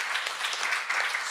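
Steady applause from an audience honoring the volunteers at an open-source conference, a dense, even patter of many hands clapping throughout without any voices on top.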